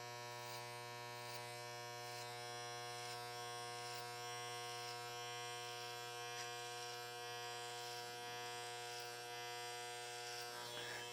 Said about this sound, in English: Going to close the clipper blade down halfway.